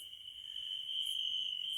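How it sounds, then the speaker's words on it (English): Steady, continuous cricket chirping fills the air, a high shrill drone that holds evenly throughout with no voices, like an open window on a quiet night. "got the windows open here, and the crickets are kind of"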